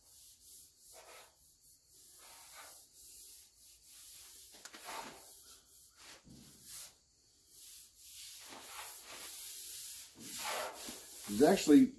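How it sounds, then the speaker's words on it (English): Rust-Oleum primer surfacer is hand-sanded on the body panel of a Chevy Square Body truck in steady back-and-forth rubbing strokes, a soft rhythmic rasp repeated close up with brief pauses between passes. "This primer is actually sanding really, really nice."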